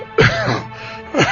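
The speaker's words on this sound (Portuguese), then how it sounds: "Deu 2 tossidas e começou a suar." Two throaty coughs from a man in a Portuguese-language audio drama, a sharp rasping burst near the start and a second about a second later, close-miked with a quiet room tone between them.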